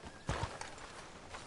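Horse hooves clip-clop in Red Dead Redemption 2: a couple of firm hoofbeats close by, followed by softer steps over faint background ambience.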